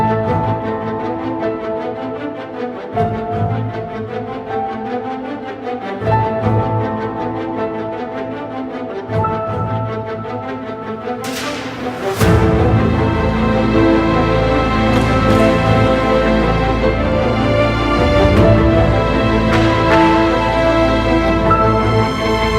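An Action Strike orchestral percussion library plays on its own. Steady pulsing drum hits build into a louder, denser full-ensemble section of booming low percussion and sharp accents about halfway through.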